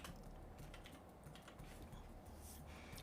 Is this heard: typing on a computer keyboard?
yes